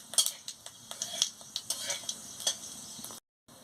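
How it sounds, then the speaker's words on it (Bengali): Panch phoron and dry red chillies crackling in hot oil, stirred with a metal spoon: sharp clinks and scrapes against the pan over a light sizzle, then a short silence at the end. "তেল গরম হয়ে গেছে আমি পাঁচ ফোড়ন আর শুকনো লঙ্কা দিয়ে দিচ্ছি দিয়ে ভালো করে একটু নাড়িয়ে নিচ্ছি"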